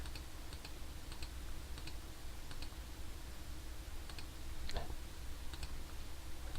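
Rapid computer keyboard typing with crisp clicking keystrokes and repeated Ctrl+E shortcut presses, steady and close, with no voices.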